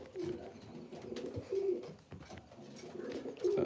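Pigeons in a pigeon loft coo in low, soft, repeated rolling calls, several birds overlapping at a moderate distance amid faint rustling and shuffling.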